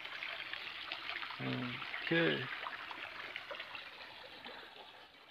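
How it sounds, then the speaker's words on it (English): A small seasonal river in a forest flows steadily with a soft, constant rushing wash, while a person speaks briefly over it. "Can see the flow, it's a seasonal river, it's not that big."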